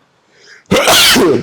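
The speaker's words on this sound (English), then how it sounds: "second sneeze" A single loud sneeze during a home COVID-19 antigen nasal swab test, preceded by a faint breathy intake, bursting out close and sharp before trailing off.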